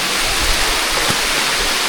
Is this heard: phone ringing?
no